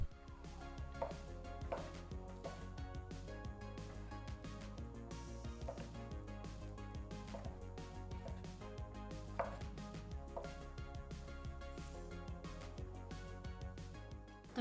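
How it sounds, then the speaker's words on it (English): Quick, steady knife chopping through sliced shiitake mushrooms on a cutting board, dense rhythmic taps continuing for many seconds, close and clear with no talking. "First, cut them into thin slices. Then turn and chop."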